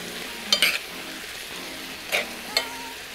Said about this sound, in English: Stir it all in ever so nicely.